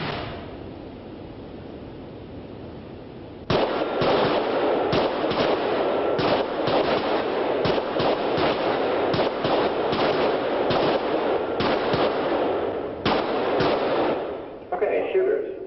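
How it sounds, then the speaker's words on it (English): Handguns fired on a law enforcement training firing range, a rapid string of sharp, loud reports ringing out close by over steady background noise, with several shooters firing overlapping rounds. "I want you to draw and fire 6 rounds"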